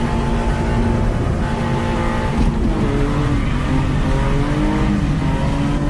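A BMW E46 325 drifting through a hairpin at full throttle, its engine revving hard and steady with a dense, loud drone and some tire noise throughout, heard close from inside the car.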